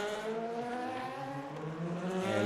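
Race cars from a multiclass field lap the Monza circuit in the Le Mans Ultimate racing game, giving a sustained, moderately loud engine whine that shifts pitch and swells slightly toward the end.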